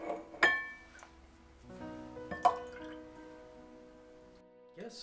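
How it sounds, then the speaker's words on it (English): Panakam, a golden-brown drink, poured into glasses in a kitchen, with two sharp clinks against the glass, then soft drips and a thin trickling pour that fades out near the end. "So we're just going to pour these into glasses."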